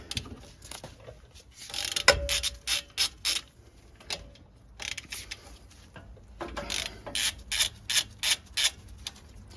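A ratchet with a 16 mm socket on the front brake caliper bracket bolts of a 2019 Ram 1500: bursts of quick rattling clicks in short runs between pauses and faint handling noises, close by.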